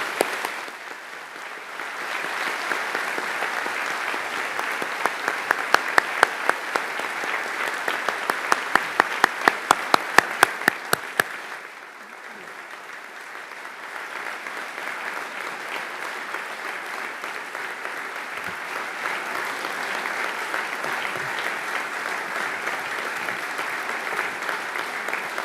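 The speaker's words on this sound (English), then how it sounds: "Could we please have a round of applause for all those members of staff for whom today is their last day at the Academy?" Sustained applause from a school audience at the Edinburgh Academy senior exhibition, honouring staff on their last day; steady dense clapping fills the hall, with a brief rise of sharper claps midway before settling into an even roar.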